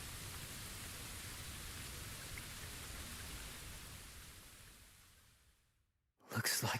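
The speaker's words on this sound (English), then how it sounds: "Looks like the rain has stopped." Steady rain in a video game falls as a dense, even hiss for several seconds, then fades out to silence before a brief burst of other sound at the end.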